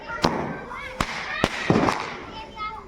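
Diwali fireworks set off outdoors: several sharp cracks and pops spaced through the moment, with fizzing, crackling sparkle between them and children's voices nearby.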